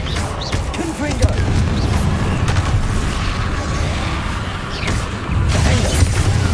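Confringo, a fire spell, bursts in Hogwarts Legacy combat, producing repeated booming impacts and crashing debris within a steady roar of battle noise, with a heavier low thump near the end.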